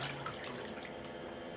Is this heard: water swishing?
yes